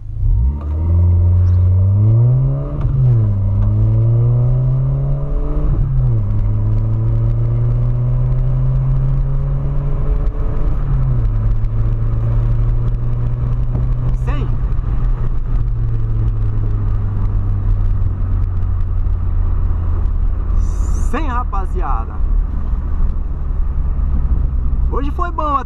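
A VW Polo accelerates hard from 0 to 100 km/h, its engine climbing in pitch through several gears with clear drops at each shift, loud and close from inside the cabin, settling into a steady drone at speed.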